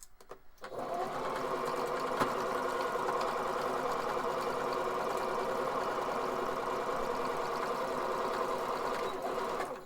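A sewing machine stitches fabric masks in a steady, fast mechanical whir that starts after a brief pause and runs nearly unbroken at close range for several seconds.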